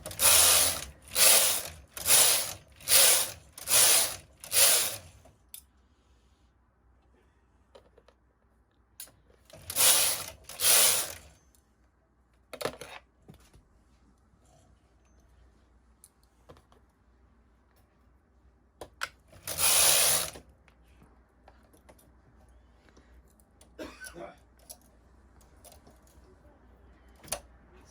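A knitting machine carriage ratchets along the bed in loud clattering bursts: a fast series of six passes, then a pair, then one more, separated by quiet gaps with faint handling clicks.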